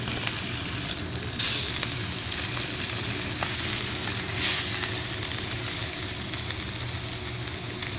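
Fish frying in a hot cast iron pan with turmeric, a loud, steady, close sizzle that holds evenly throughout with a few faint clicks over it.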